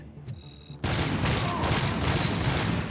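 Sustained, dense gunfire in RoboCop: Rogue City erupts after a short quieter moment and rattles on continuously, loud and close, with a booming, mechanical edge.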